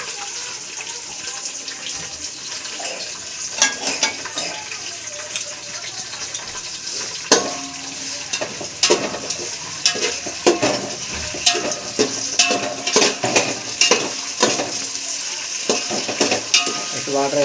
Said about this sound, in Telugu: వాటర్ వేసుకొని రైస్ వేసుకుంటాం.